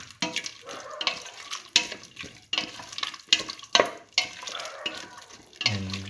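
Beef pieces being stirred and mixed with broth in a pot, wet sloshing and scraping strokes in irregular bursts, close and fairly quiet.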